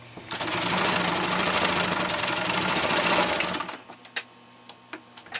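A Toyota-made Morse industrial sewing machine drives through 14 layers of canvas binding tape, a loud, steady mechanical whir for about three and a half seconds before stopping, followed by a few faint clicks.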